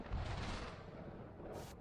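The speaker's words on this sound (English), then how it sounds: "Did you guys hear that? That is the sound of the thunder" A thunder sound effect played on a game show podcast, a dense low rumble that rolls on for a couple of seconds at moderate level.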